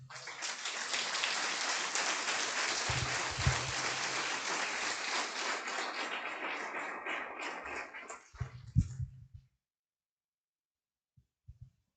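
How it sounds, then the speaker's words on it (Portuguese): Sustained applause from a church congregation, broad and steady for about eight seconds before tapering into a few scattered claps and then silence. "Dê um aplauso a ele."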